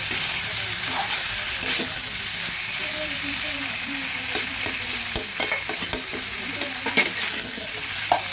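Spices for a vegetarian koyash being sautéed in a pan, with a continuous sizzle broken by scraping stirs and clinks of a spoon, loud and close, with no talking.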